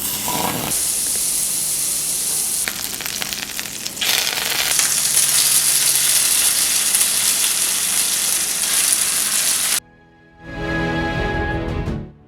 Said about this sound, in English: In a very hot pan, I'm going to go ahead and add 2 tablespoons of butter with fresh thyme.